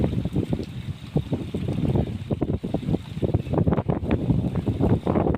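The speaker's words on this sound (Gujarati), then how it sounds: "આજે પવન સાથે વરસાદ છે" Gusty wind buffeting the microphone in low rumbling bursts, loud and uneven, with a faint hiss of rain behind it.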